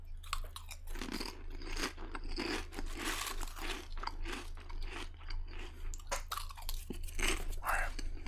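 Someone close to the mic chews crunchy Lay's potato chips in a steady run of crisp bites and crunches, with faint talk underneath.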